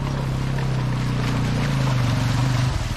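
Motorbikes cross a stream at a water crossing near Kuladera Waterfall, a loud engine drone that slides lower in pitch as the bikes push through the water.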